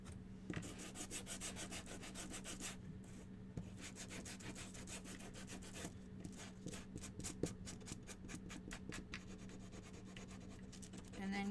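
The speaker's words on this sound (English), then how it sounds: "we're going to sand and distress and make it come to life" Hand sanding along the edges of a wooden piece from a DIY duck craft kit, with repeated quick rasping strokes in bursts, some fast and rhythmic, close up and fairly quiet.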